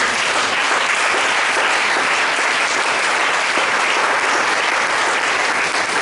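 A church congregation applauding and cheering for Jesus, a loud, dense, continuous wash of clapping hands that holds steady throughout.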